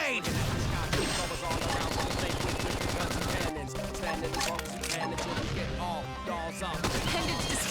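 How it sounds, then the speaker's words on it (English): A flame grenade attack in the mech combat game Xenoblade Chronicles X, with a dense barrage of gunfire, crackling impacts and blasts layered over game music and voices. "Flame grenade."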